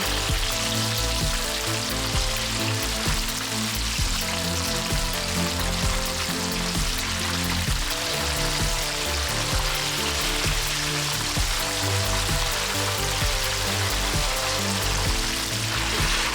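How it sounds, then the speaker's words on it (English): Fish frying in oil in a non-stick pan, a loud, steady crackling sizzle with dense popping spatters that runs unbroken throughout, no talking. "I'm using a non-stick pan to fry this"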